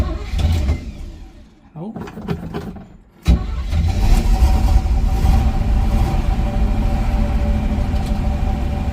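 A 1977 Chevrolet Camaro V8 with a three-speed manual cranks, catches and settles into a loud, slightly high, rumbling idle close by, with a brief spoken exclamation near the start.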